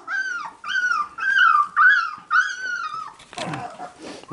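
Four-week-old puppies crying, a series of five high, whiny yelps in quick succession, close and clear, followed by softer scuffling whimpers.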